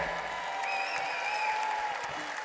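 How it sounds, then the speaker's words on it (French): Graduation ceremony crowd of students, teachers and families applauding in a steady, even wash of many hands, soft and somewhat distant throughout. "Je pense que vous pouvez vous applaudir"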